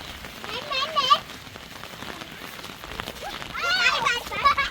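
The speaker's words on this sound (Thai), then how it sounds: "ฝนตกทั้งวันเลยฝนตกบดมือบดเว้น" Steady rain falls all day in the countryside, a constant hiss of drops on surfaces running beneath people talking, with a voice rising above it.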